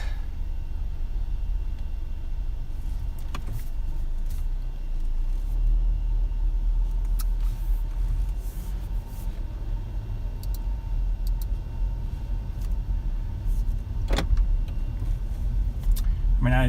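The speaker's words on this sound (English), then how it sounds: "I'm just going to take a short spin around the block." Car cabin rumble on a short drive around the block: a steady, close low drone of road and engine noise runs throughout, broken by occasional faint ticks and clicks.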